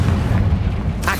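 A Confringo explosive spell cast in Hogwarts Legacy gives a deep booming blast under a steady low rumble, followed by a short bright burst near the end.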